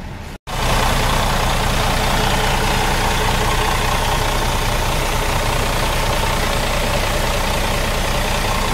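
A small engine idles steadily after a brief dropout at the start, an even mid-pitched drone that holds close and loud without change.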